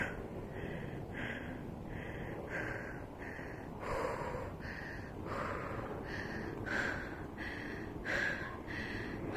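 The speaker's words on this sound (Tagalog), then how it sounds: "Grabe ang hingal ko." Heavy, repeated breathing and gasping from a tired hiker on the Ma On Shan trail to Saddle Peak in Hong Kong, a steady run of close, loud breaths with a few sharper gasps, no talk.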